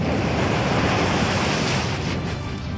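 The strong wind weather effect in the Pokémon video game Pokémon Omega Ruby and Alpha Sapphire is a loud, continuous rushing roar of wind, dense and steady like surf, heard alone without talk.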